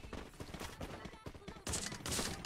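Video game gunfire crackles in dense, rapid bursts, loud and continuous, swelling into heavier volleys toward the end.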